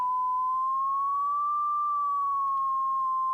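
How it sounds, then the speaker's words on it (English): A steady, pure sine-wave tone from a Korg NTS-2 synthesizer holds one pitch, drifting slightly up and back down, smooth and unbroken with no other sounds. "tune the pitch of the sine wave"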